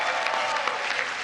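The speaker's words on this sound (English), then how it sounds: "Yes, you are cheering for furniture." An audience at the White House Correspondents' Association dinner bursts into steady, dense applause, many hands clapping at once, loud and close.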